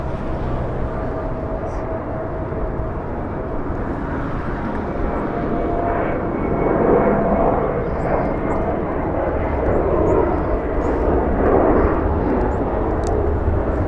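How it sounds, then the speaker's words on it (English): A SkyWest Embraer E-175 jet airliner at Los Angeles International Airport produces a loud, continuous engine roar that swells gradually and stays broad and steady throughout, with no voices. "E-175 flying to Phoenix, Arizona."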